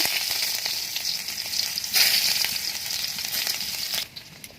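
Onion hitting hot oil tempered with five-spice seeds gives a loud, close, continuous sizzle, swelling briefly as it lands, then dropping off abruptly near the end.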